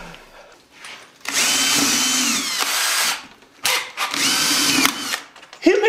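A power drill boring holes for a homemade wooden birdhouse, two loud close bursts of whirring, each lasting a couple of seconds, separated by brief pauses, with a clunk at the very end as the drill bit breaks.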